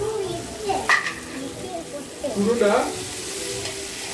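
Biryani ingredients sauté in hot oil, a steady sizzle with a few louder bursts as they are stirred, while voices talk nearby over the cooking.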